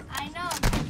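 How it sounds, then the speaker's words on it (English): A single sniper rifle shot in a multiplayer shooter game, a sharp loud crack with a brief booming tail, preceded by a short tonal whine. "Oh, I got sniped."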